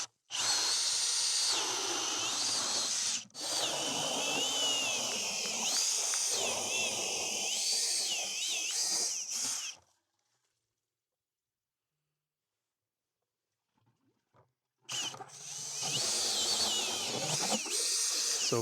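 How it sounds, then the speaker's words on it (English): A power drill or auger bores a hole through thick lake ice, whining loudly and close for about ten seconds, then falling silent for several seconds before grinding back to full strength. "So let's drill a hole and see how thick the ice is."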